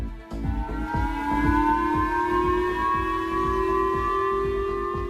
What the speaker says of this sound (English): People on the island of Hokkaido wake up to sirens warning them to take cover.